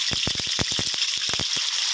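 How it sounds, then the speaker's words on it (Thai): Minced pork stir-frying in hot oil for spicy basil pork, a steady bright sizzle with bursts of crackling as it's stirred, close and loud. "อันนี้เป็นขั้นตอนนะเรียกว่าการผัดหรือว่าการรวนหมูนะครับ"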